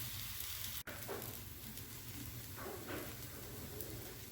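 A shahi mooli paratha fries on a hot pan with a steady, soft sizzle that runs the whole time, broken once by a brief sharp tick; no voices.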